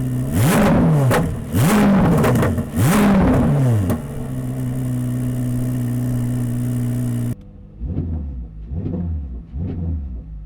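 A 2023 Chevrolet Corvette C8 engine revved while parked: three sharp throttle blips rising and falling, then a steady idle hum, followed by a quieter, more distant set of three revs.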